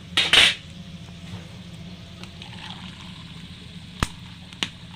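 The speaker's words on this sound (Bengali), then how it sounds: "এই দেখো 2 মগ আর আধা মগ জল দিচ্ছি।" Water is poured from a mug into a pot of rice for khud bhat, a broken-rice dish. It sounds like a soft, faint trickle, opened by a loud metallic clatter of the pot, with two more light clinks near the end.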